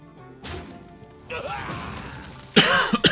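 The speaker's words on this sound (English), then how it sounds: "I'm still coughing a lot" A person coughing and clearing their throat, a few rough bursts building to a louder pair of coughs near the end, close to the microphone.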